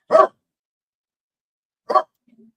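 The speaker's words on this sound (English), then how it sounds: "I think you hear my dog, people." An old dog barks two sharp, separate times, close and loud with a silent gap between them, then gives a faint whimper at the end.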